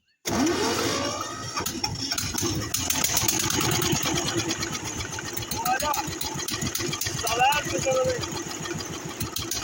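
A walk-behind motor tractor that sat all winter, primed with warm water, cranks and catches, then runs at a steady, loud idle with a rapid rhythmic chug close by, while people talk over it.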